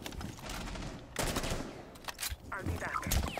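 Bursts of automatic gunfire in Rainbow Six Siege, sharp and close, broken by short pauses, with a player talking faintly in between.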